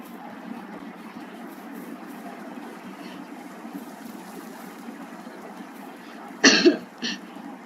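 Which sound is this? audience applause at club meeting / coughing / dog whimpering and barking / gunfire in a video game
coughing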